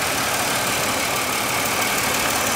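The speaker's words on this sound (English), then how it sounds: "But here's the engine under my Buick here, the 3800." A Buick 3800 Series 2 V6 in a 2002 Buick Regal LS idles steadily, a close, loud and even engine hum with no talking over it.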